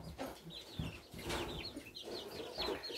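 Chickens cluck repeatedly in a backyard coop, with a rooster's calls mixed in. The clucks come in irregular bursts, fairly close, and a little wing flapping is heard among them.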